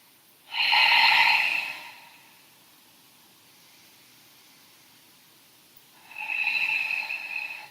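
Two slow, deep breaths during a hatha yoga session: a long breathy rush near the start, a quiet pause, then a second airy breath rising at the end, close and fairly soft.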